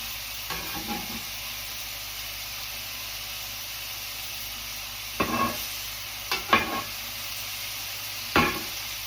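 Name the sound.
onions frying under burger patties on a griddle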